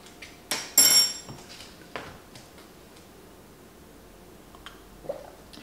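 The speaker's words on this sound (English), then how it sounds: "Give it a little mix." A spoon stirs Nespresso coffee with milk in a cup, giving a few sharp, close metallic clinks and taps against the side, loudest early on, then sparse lighter ticks.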